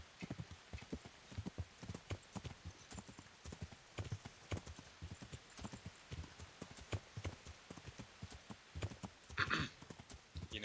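Horse galloping in Kingdom Come: Deliverance, a steady rapid clip-clop of hooves running over a long stretch, close and fairly loud, with a brief whinny near the end and no talking.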